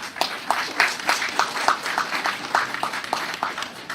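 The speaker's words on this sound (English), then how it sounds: "Give the Excellency a round of applause." Applause at an outdoor sod-turning ceremony, a modest crowd clapping in a steady, scattered patter for about four seconds. The sound is fairly close and plays alone.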